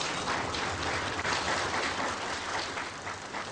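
A large audience at a union meeting of the Solidarity movement claps steadily as a dense, unbroken wash of applause at an even level from start to finish, with no voices standing out.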